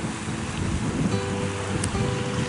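Steady broadband rush of surf and wind on open water at a summer beach, with a low motor drone from a jet ski running underneath, continuous and fairly loud.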